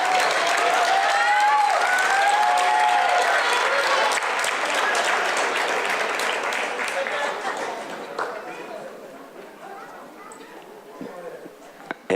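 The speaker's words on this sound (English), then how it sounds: "Give him a big round of applause." A big round of applause with cheering and whistles from the audience at a campus celebration as a guest is invited to the podium, loud and sustained before gradually thinning out toward the end.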